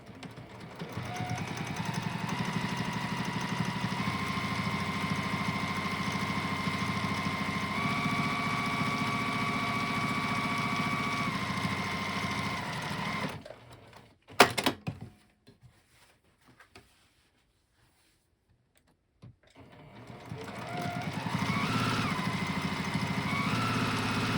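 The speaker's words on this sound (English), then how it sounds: "now I'm just going to do the top stitching, which just makes them look a little bit more pro in your finished bag" A sewing machine topstitching a knitting project bag, running steadily and close for about thirteen seconds, then going quiet and starting up again.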